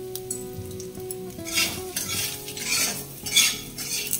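Spices with red chilli and salt frying in oil, a steady close sizzle broken by spoon scrapes and clinks against the pot, with no voices.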